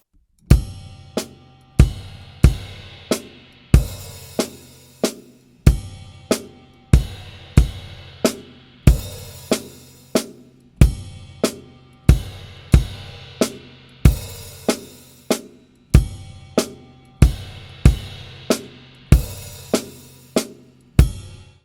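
Rapid single-paradiddle drum strokes move across toms in a repeating pattern, with cymbal crashes ringing out periodically; a steady, rhythmic groove played alone.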